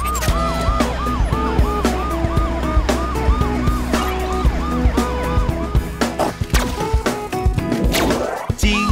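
A cartoon police car siren wails in a fast, repeating two-tone pattern over upbeat children's song music with sharp percussive hits, ending in a rising sweep.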